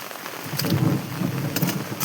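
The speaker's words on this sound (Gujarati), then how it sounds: "વરસાદ આવે છે" Rain falling steadily with a dense hiss of drops and a low rumble underneath, a few brief louder splashes.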